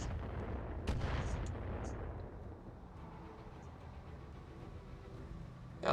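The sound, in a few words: mortar firing in a BattleTech video game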